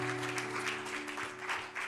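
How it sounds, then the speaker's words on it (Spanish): A church congregation gives a hand of praise during a bilingual sermon, producing a soft, diffuse wash of clapping heard at a distance under a sustained low hum. "Un aplauso, alabanza al Señor."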